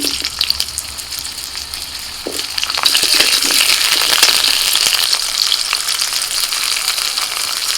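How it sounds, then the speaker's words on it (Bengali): Potatoes sizzle loudly in hot oil, the crackling swelling after a few seconds, with occasional scraping of stirring. "এবার তেলের মধ্যে আলু ভেজে নেব"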